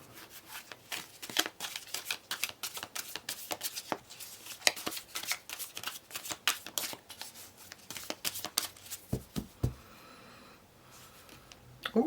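Tarot cards are shuffled up close in quick, papery riffles and slides that come in a rapid uneven rhythm, quiet overall, with a few louder snaps near the end.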